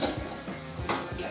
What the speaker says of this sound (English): So let's get the mushrooms in there.